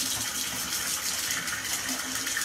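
Water gushing and draining through a new shower waste arm, a loud, steady rushing flow that holds constant throughout, close by and alone.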